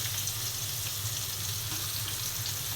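Onion and garlic fry in oil in a pan for Malabar spinach stir-fry, a steady, broadband hiss and sizzle that stays even and close with no talk.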